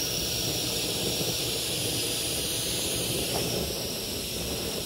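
A propane torch burns weeds with a steady, continuous roaring hiss close by, unchanging in level for the whole stretch.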